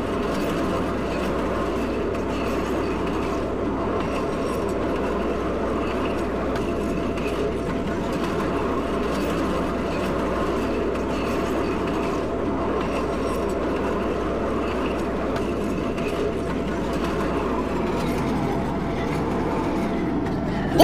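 A CTA Red Line Series 5000 train runs between Howard and 95th/Dan Ryan in a Roblox train simulator, giving a continuous rolling rumble with light clickety-clack, steady and unbroken.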